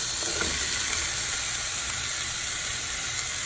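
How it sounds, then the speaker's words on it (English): Onions sautéing in a hot pan throw off a dense, steady hiss that sits close and loud, with only faint stirring in the background and no talking. "I'm gonna throw my onions in here."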